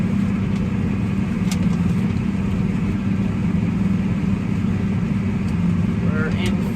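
A Challenger tracked tractor engine idles with a steady low rumble in an open field, heard from some distance while a person talks over it.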